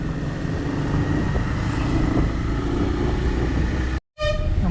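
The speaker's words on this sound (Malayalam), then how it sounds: "ഷണ്ടിങ് നടക്കുന്നതിനാൽ ഗേറ്റ് തുറക്കുന്നതല്ല" A train shunts at a closed railway level crossing, its engine being changed, giving a steady low rumble with a faint sustained tone, loud and near, before a brief cutoff and a few fading tonal pulses.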